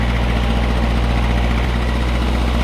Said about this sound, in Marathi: तुम्ही बघू शकता आर्यन भाई ट्रॅक्टर सफारी करतो